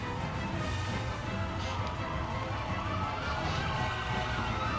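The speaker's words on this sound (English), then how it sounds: "And there's the sirens." Emergency vehicle sirens wail outside, a steady mid-loud wash of sound that fills the whole stretch with no talking over it.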